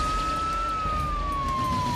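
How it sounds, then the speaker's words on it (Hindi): Police siren played through a mobile phone speaker, a single slowly falling wail that stays steady and fairly loud against a low background rumble, with no voices. "पुलिस का सायरन सुनते ही भाग गए।"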